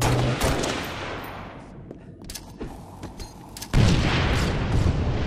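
Rapid bursts of gunfire crack and boom through a team doubles arena match in a video game, with several loud volleys clustered together and a heavier barrage near the end.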